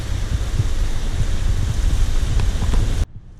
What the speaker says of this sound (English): Nice little rain.